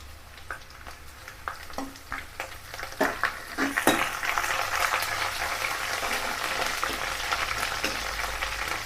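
Curry leaves and dried red chillies hit hot oil with ginger and garlic in a pan for gooseberry pickle, bursting into crackling spatter that builds from scattered pops to a dense, close sizzle.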